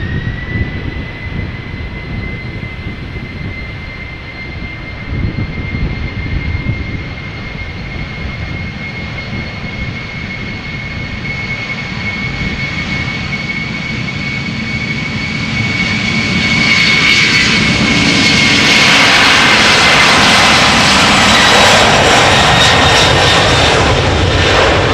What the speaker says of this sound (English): KLM Cargo flight 6141, Boeing